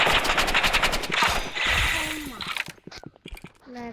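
Rapid bursts of automatic assault rifle fire in the Roblox video game, loud and continuous for a few seconds, then breaking into scattered separate shots with game effects and voices in the background.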